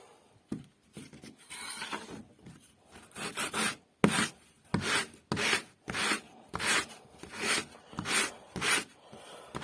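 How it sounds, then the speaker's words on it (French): Sandpaper rubs back and forth over a small wooden circle made from salvaged material, giving a steady series of rhythmic rasping strokes, close and fairly loud, with no voices. "Le cercle est ici. Il va falloir le poncer un peu."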